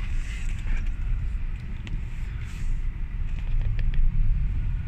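A Honda Vezel with a dual-clutch transmission pulls away in D after a clutch replacement, giving a low, steady engine and road rumble that swells slightly toward the end, with no clunks or knocks.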